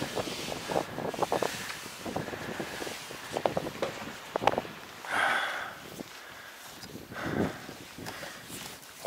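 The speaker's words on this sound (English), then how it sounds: "wind's a little strong up here" Strong wind buffeting the microphone on a mountain summit in the Catskills, gusting in uneven rumbling bursts with brief lulls, close and fairly loud.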